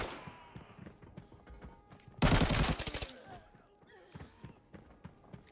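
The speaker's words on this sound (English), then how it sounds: "There's a gunfight going on inside, and he's trying to get involved." Gunfight inside the Bunker in the video game Arena Breakout: a loud burst of rapid automatic gunfire in the middle, with scattered shots and impacts before and after.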